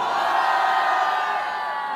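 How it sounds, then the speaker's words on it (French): An audience at a rap battle shouts and cheers in one sustained, dense roar of many voices, steady and loud throughout. "Tous ceux qui sont pour Anaïs, je veux vous entendre crier!"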